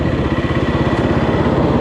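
A Kawasaki KLX 300R dirt bike on a trail gives off a steady, loud, pulsing single-cylinder engine chug at a low, even throttle throughout, with no talk.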